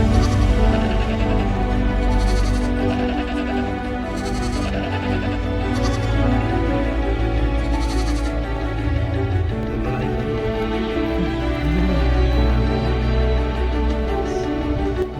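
A herd of goats bleats repeatedly on a mountain road near Manali, many overlapping calls, loud and close, over a constant rumble of background noise.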